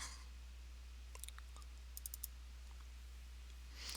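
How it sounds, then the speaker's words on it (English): Light computer mouse clicks while placing pieces in a puzzle cube modeling program, a few faint, sharp ticks spread over a few seconds against a steady low hum, with no talking. "I'm going to click once and then I'm going to hit the escape key."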